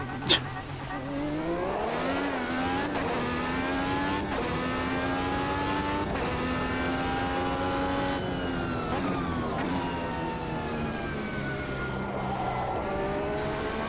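Race car engine in the Automobilista 2 sim racing game, a loud continuous whine that rises and falls through repeated gear shifts and revs, close and steady throughout, with a short thump at the start.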